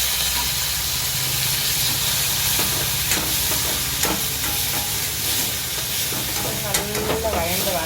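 Tomato and spices sizzle and are stirred in hot oil for a crab rasam, a steady loud frying hiss with scraping spoon strokes and occasional clinks throughout.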